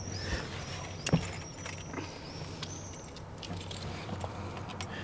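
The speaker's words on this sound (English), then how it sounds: "So when you actually turn the key," An ignition key jingles and clicks as it turns in a 1980s turbocharged car, followed by a soft electronic chirping and faint whine as the dash cycles, all fairly quiet with no talking.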